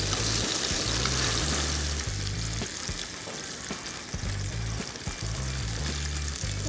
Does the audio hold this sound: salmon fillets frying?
yes